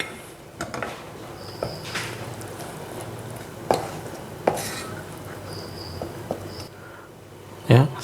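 Icing sugar and cornstarch being stirred in a bowl for a spicy cheese tart, with scattered light scrapes and clinks of utensil against the bowl over a steady background hum.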